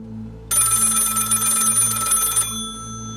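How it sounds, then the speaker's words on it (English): A telephone rings loudly with a fast trilling electronic bell that starts abruptly, holds for about two seconds and then cuts off, leaving a faint low hum behind it and no voices. "The phone rang again and again over the next 2 days"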